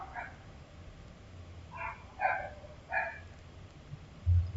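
A dog barks in a few short, sharp bursts at moderate distance, with quiet low rumble in the background and a brief thump near the end.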